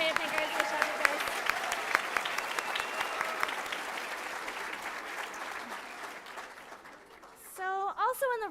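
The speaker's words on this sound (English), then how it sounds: "One more round of applause, please, for our innovative thinkers." Audience applause at a school eighth-grade awards ceremony, a sustained crowd clapping that slowly thins out, followed by a voice starting to talk near the end.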